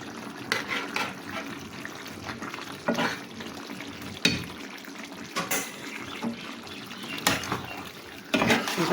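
Mixed vegetable curry cooking in ghee in a pan, stirred with intermittent scraping and clinking strokes over a soft continuous sizzle, close and moderately loud.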